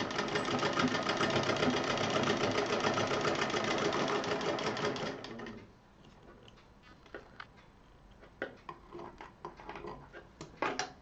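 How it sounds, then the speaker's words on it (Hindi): A sewing machine stitching a patchwork cushion cover runs loud and steady with a fast mechanical whir for about five seconds, then stops, leaving scattered light clicks and handling taps of fabric. "एक चाप की दूरी रखते हुए सिलाई करनी है।"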